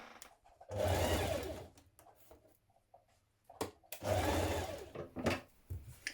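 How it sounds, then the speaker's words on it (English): A sewing machine stitches a dress seam in two bursts of fast, steady whirring, separated by a quiet pause, with no talk. "then we're going to stitch that in place with a 1 centimetre seam"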